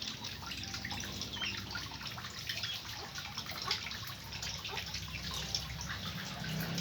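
Water trickles and drips steadily into a homemade catfish breeding tank, a quiet, continuous splashing with scattered small drops close by and no talk.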